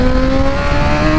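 A 2024 BMW M1000XR motorcycle engine screams loud and steady at the top of second gear, holding a constant high-revving tone up close.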